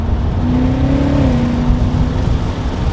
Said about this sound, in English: testing out the paddle shifters, so let's go ahead and downshift